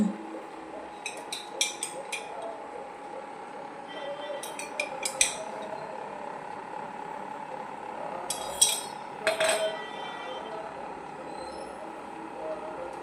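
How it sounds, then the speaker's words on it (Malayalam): A metal pan is set on a home kitchen stove while banana snacks are made, giving a few scattered metallic clinks and clanks over a quiet, low background hum. "ഈ പാൻ അടുപ്പിലേക്ക് വെക്കാം."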